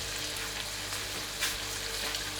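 Potatoes sizzle and fry in a pan for a Punjabi lamb samosa keema filling, a steady dense crackle with brief louder spits, heard alone without talk.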